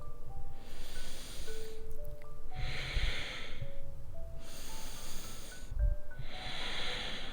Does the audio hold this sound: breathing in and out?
yes